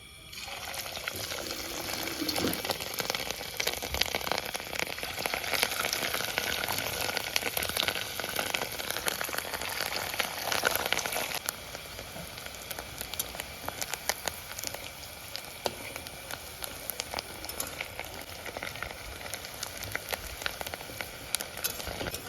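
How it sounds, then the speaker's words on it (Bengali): Eggs frying in hot oil give a dense, steady crackling sizzle, close and fairly loud, easing slightly partway through and continuing without talk. "তেল তো গরম হয়ে গেছে এবার আমি ডিমগুলো ছেড়ে দেবো"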